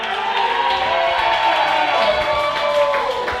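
A wrestling crowd cheering and chanting a song for the wrestler 'El Guerrero' Jose Acosta, loud and sustained, with massed voices singing a wavering tune close and full.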